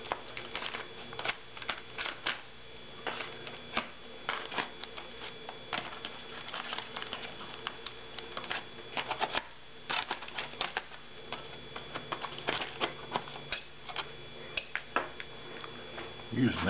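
Hot aluminium foil dinner pack being unwrapped at a table, heard as close, busy crinkling and crackling of foil in uneven bursts throughout.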